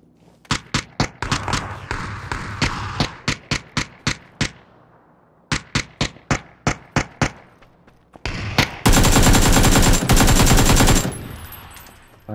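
Rapid gunshots crack in PUBG on PC, several evenly spaced bursts of single shots with brief gaps, followed by a sustained loud automatic stream of fire near the end.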